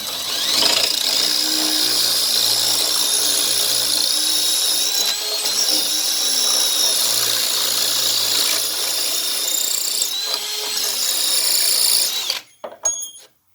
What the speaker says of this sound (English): This concrete is a built. concrete drill.